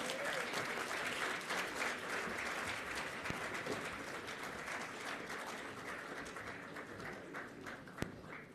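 A conference crowd at the Global African Hydrogen Summit claps for young people, sustained dense applause that slowly tapers slightly in intensity, with one sharp louder clap standing out near the end.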